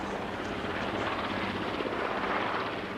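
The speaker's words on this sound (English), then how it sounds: "they landed their chopper only a few yards away from our studio." A Wessex helicopter flying in and landing near a television studio, its rotor and engine a steady, loud, continuous roar with dense broadband wash and no voices over it.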